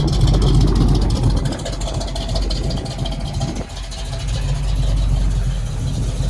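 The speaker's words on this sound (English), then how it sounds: "Car sounds really good, and that's just on idle." A 1971 Chevrolet Nova's engine idles with a steady, throbbing rumble, loud and close, continuing without a break for several seconds.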